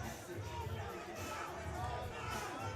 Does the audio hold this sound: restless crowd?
yes